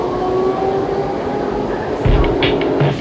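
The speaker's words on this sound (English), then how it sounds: "This is our red line train to Tacoma." Washington DC Metro red line subway train rumbling steadily along the track, a loud continuous roar with a faint whine, followed near the end by a few sharp clanks and hisses close by.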